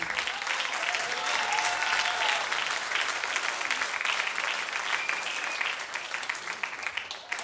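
Audience applause at a jazz wind-ensemble concert greets a young clarinet soloist, a dense, steady wash of many hands clapping throughout, easing slightly near the end.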